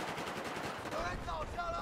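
Rapid machine gun fire in Battlefield 4, a fast rattling burst of shots heard at a moderate level within game sound.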